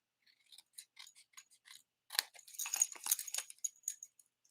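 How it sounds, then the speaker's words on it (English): Scissors snip away excess card paper while finishing a Christmas card, a run of quiet, crisp cuts that come slowly at first, then quicken into a denser series of close snips. "now I'm going to come in with my scissors and just trim off this excess"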